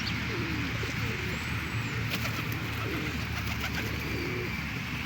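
Pigeons coo repeatedly in low, rolling calls over a steady background hum, with a few faint chirps from other birds.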